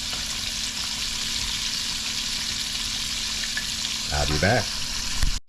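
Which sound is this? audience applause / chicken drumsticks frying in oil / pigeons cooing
chicken drumsticks frying in oil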